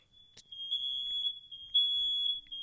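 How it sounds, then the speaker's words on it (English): A smoke alarm sounds a piercing, sustained high-pitched tone, steady and continuous against a quiet background. "The smoke alarm is going off, and it's really loud."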